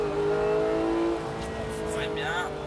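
A GT3 race car accelerates in third gear with a loud, steady engine drone that rises in pitch, while a voice talks over it from inside the car.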